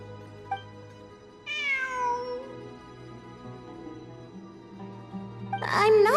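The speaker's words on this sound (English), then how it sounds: "I'm not hearing things. It really is a cat." A cat meows in the game Genshin Impact, set in the Sumeru region: one drawn-out, falling meow in the middle, then a sharper, louder burst of caterwauling near the end, both over a soft, steady game ambience.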